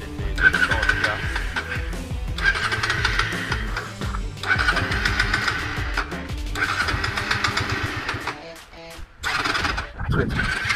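A Honda Shadow motorcycle under repair being started, with repeated cranking bursts that stutter and stop before catching, fairly loud and close, while people talk over it.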